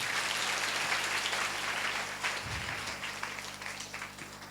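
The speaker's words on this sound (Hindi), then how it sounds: "ताली बजा" A church congregation at an Indian Sunday service claps together in a steady, dense burst of applause that slowly fades over a few seconds, with no speech.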